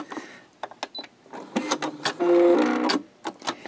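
A sewing machine stitches a small quilted key fob in short bursts of motor whir, one longer steady run near the middle, with brief pauses and handling noises between runs.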